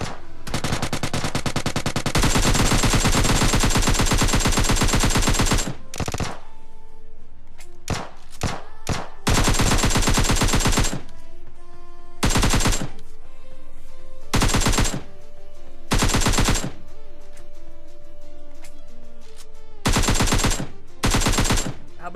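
Bursts of automatic gunfire in PUBG, a long sustained volley followed by shorter rapid bursts and single shots, loud and close with brief gaps between.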